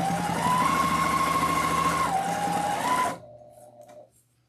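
A sewing machine runs steadily as fabric for a Victorian witch Halloween wreath attachment is pushed through, a loud continuous mechanical whir with a shift in pitch midway, stopping abruptly after about three seconds and leaving a faint hum.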